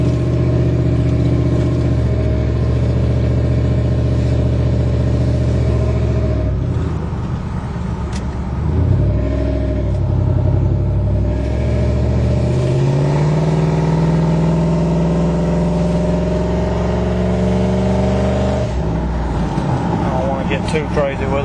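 A lifted truck driving through a neighborhood, its engine droning loud and close from inside the cab, rising and falling in pitch as it accelerates and shifts, with a loud rev-up partway through and continuous throughout.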